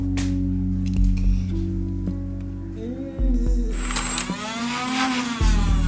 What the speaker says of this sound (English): without pushing the trigger, you got the motor to go